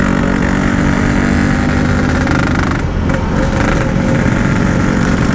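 Close, loud idle of a Yamaha RX King motorcycle with a modified exhaust, a raspy two-stroke burble holding steady with a brief dip and slight throttle wobble midway.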